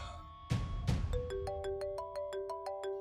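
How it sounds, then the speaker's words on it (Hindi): A mobile phone ringtone for an incoming call in a TV drama scene: two soft thumps, then a bright, melodic run of repeating electronic tones, clear and close. "नादिर भाई का फोन आ रहा है।"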